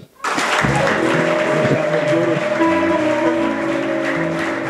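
A church congregation breaks into applause, a dense and sustained clapping that starts abruptly and holds at a steady level over held musical tones and some voices.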